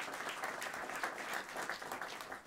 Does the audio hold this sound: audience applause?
yes